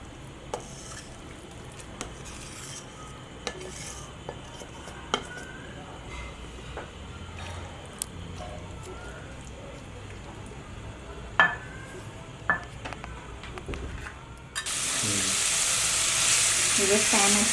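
Mutton liver dropped into a hot pan with a spoonful of cooking oil, giving faint scattered clinks and light sizzling that bursts into a loud, steady frying hiss near the end.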